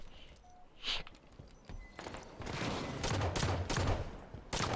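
Dense gunfire during a Halo multiplayer strongholds match, a rapid fusillade of overlapping shots that builds from scattered bursts into sustained, loud firing over the final seconds, with no talk.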